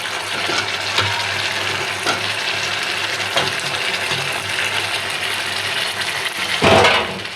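Broad beans go into a pan of onions frying in spices for rui fish bhuna. A steady, hissing sizzle runs throughout and ends in a sudden loud burst as they hit the hot oil.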